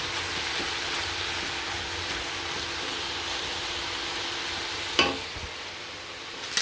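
Spring roll vegetables stirred in a hot pan, with a steady soft sizzle and scraping throughout and a sharper clank near the end.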